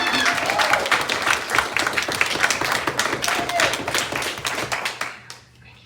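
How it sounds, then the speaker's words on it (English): A room of people gives a big round of applause, a dense, loud clatter of clapping hands that holds steady before tapering off abruptly near the end. "if we could just give him a big applause"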